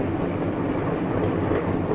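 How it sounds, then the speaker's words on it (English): A 1955 passenger train runs on its rails, heard as a steady, dense rolling rumble near the rear observation car, continuous and even throughout with no voices. "Now Bob understands why it's at the rear end of the train"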